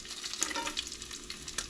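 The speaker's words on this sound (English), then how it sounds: "like it's almost frying in its own grease" Bacon and chicken sizzle and crackle in a pan, frying in their own rendered grease, with a steady soft hiss and scattered pops, heard fairly faintly without talk.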